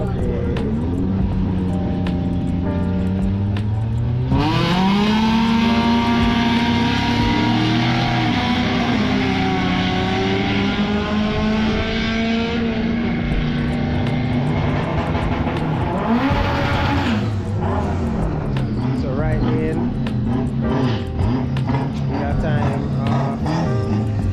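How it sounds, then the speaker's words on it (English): An SR20-swapped Nissan March race car engine screams continuously, revving up and down through gear changes, loud and close throughout, with voices talking underneath, at a drag racing event. "It's a SR20 swap Nissan March."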